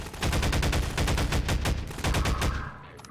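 Rapid automatic gunfire from a weapon in Half-Life 2, a dense run of loud, close shots with a brief pause and a second burst before it trails off.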